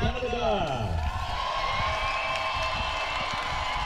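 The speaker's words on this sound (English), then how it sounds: "And the crowd cheering for Canada here." Crowd cheering for Canada at the USA vs Canada mixed final of the 2024 ultimate frisbee junior championship, a broad sustained roar with whoops. A commentator's voice runs over it at the start.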